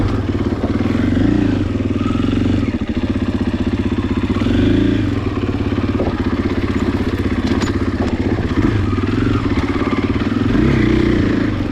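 A 2020 Husqvarna FE501S motorcycle works its engine hard while riding technical off-road terrain, a loud, steady close-up engine drone with pulsing revs and clattering knocks over almost twelve seconds, no talking.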